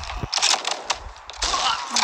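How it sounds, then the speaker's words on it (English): Grenade blasts and rapid gunfire crackle through an online shooter match, a dense run of sharp bursts and pops at close range with only scattered voice underneath. "Oh jeez. Okay, okay, grenade."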